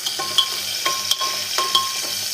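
Tomato sizzles in a hot pan for a vegetable dish as a utensil scrapes and stirs in a few quick, distinct strokes over a steady background hiss.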